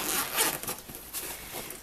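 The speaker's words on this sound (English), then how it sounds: "it has this side zipper that opens all the way down" A side zipper on an Anello backpack is pulled open all the way down in one long, close rasping run with a few brief catches, loud and clear, with no talk over it.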